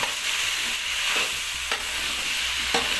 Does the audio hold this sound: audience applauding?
no